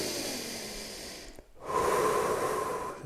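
A deep breath during a handstand wall drill in a bodyweight workout, a single strong breathy inhale and exhale rising after a brief pause, close and fairly loud, with no talking.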